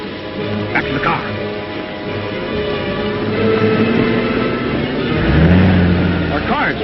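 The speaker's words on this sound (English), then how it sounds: "Our car's running wild." A runaway car's engine in a 1939 film, a steady loud motor drone that swells and rises in pitch toward the end, with brief voices cutting in.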